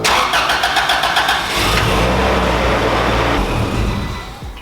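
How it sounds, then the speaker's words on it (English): A repaired car engine cranks with a rapid stuttering whir, then catches and settles into a loud, steady idle rumble up close, easing slightly at the end. "Now we gotta pray this thing starts."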